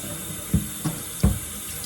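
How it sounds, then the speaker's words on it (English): Water running and gurgling down a kitchen sink drain, with a few soft low splashes or glugs breaking through a steady background hiss. "let me let this water drain out of this thing"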